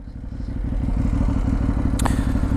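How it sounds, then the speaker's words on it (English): Close, loud exhaust of a 2018 Ducati Hypermotard 939 SP motorcycle burbles with a low, rapid pulsing thrum that builds and holds, broken once by a sharp clatter. "there's nothing like a little bit of an exhaust sound to get you going"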